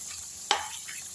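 A single quick burst of sizzling as a papad made from idli batter drops into hot oil, briefly loud then fading into a faint steady hiss.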